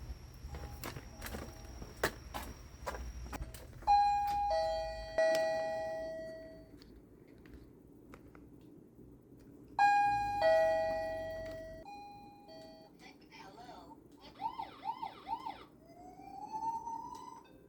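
A wireless motion sensor receiver cycles through its doorbell chime options: rapid electronic beeps, two-note ding-dong chimes, rising siren-like warbles and short melodic tone patterns, separated by handling noise and quiet gaps.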